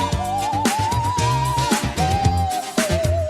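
A looped music sample pitched down three semitones, its high end softened with a Cymatics Origin effect, plays as a steady melodic phrase with a sustained lead line over repeating chords, continuous and fairly loud with no voices.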